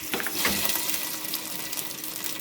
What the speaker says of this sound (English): Now the water that boiled the chicken, I'm gonna use that also to make my sauce.